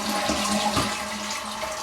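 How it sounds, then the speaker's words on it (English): A freshly installed toilet flushes with a steady rush of water draining from the tank, sustained and close throughout with no speech. "go ahead and flush it"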